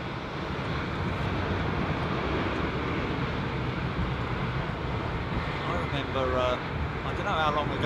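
Airliner at Heathrow Airport with steady, loud broadband engine roar and wind noise as it moves along the runway toward an intersecting turn-off, pre-storm conditions; a voice talks faintly over it near the end.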